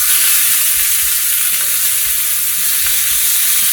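Chicken pieces, just flipped, fry in garlic butter in a pan with a loud, steady, close sizzle and crackle throughout, with a few faint utensil bumps and no talk.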